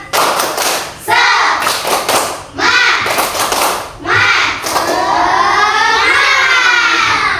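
Schoolchildren in an elementary classroom perform a rhythmic clap-and-chant cheer, with bursts of sharp group clapping and shouted voices repeating in several loud cycles close by.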